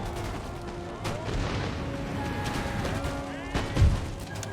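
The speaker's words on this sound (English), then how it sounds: "These guys are just being shot point blank through the windows." Musket volleys from a battle in Empire: Total War, with dense overlapping shots and crackling gunfire at a steady level and a heavier blast near the end.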